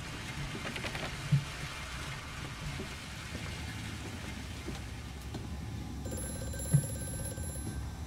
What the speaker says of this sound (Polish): Telefon tutaj.